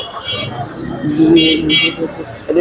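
Pigeons coo softly in a low, rolling murmur beneath busy chatter and nearby voices at the Mirpur-1 pigeon market in Dhaka.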